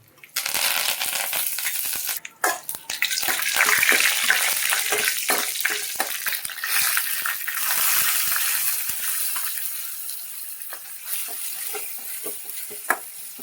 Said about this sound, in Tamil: ஆயில், கடுகு சேர்த்துடலாம். 3 வத்தல் சேர்த்துடலாம். கொஞ்சமாக கருவேப்பிலை சேர்த்துடலாம்.